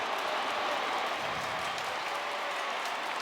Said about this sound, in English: You can hear some boos throughout the stadium.